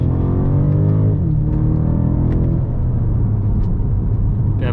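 A 2021 BMW M5 Competition LCI engine drones steadily while driving, its rising and falling harmonic tones shifting with the gears, with a loud, close, constant rumble and no talk.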